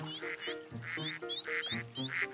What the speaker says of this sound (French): Regarde, des canards.